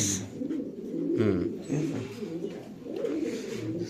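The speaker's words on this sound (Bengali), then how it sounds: "ফিরোজের হাতে আছে আরেকটা অনেক সুন্দর অনেক বড় সাইজের কবুতর এটা" A large pigeon coos softly several times in a row, low throaty rolling calls close to the listener.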